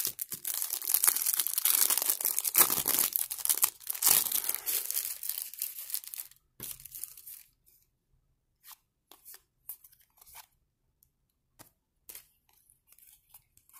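Match Attax trading card foil packets are torn open, with dense, loud crinkling and ripping of wrapper for several seconds, then sparse faint rustles and small crackles as cards are handled.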